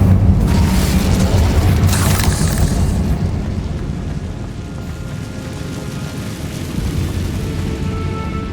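A fire spell blast in Hogwarts Legacy, a loud rumbling whoosh and boom that swells at the start and rolls on as a dense roar, fading slightly before a late surge, no talk.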